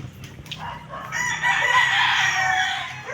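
Several roosters crow close by at a chicken farm, one long crow overlapping others, with some clucking in the background.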